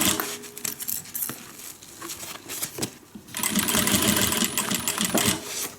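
Sewing machine stitching a guitar handbag close along the piping, starting with a back stitch: short bursts of rapid needle clatter, then a steadier, louder run of stitching up close, with faint handling noises between.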